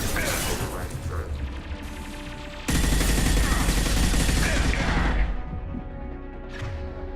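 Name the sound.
hacked turret firing in Mass Effect 2 video game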